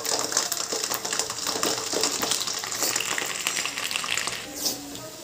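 Garlic cloves sizzling in hot oil for mango pickle, a steady crackling fry with dense popping and spitting that continues throughout without talk.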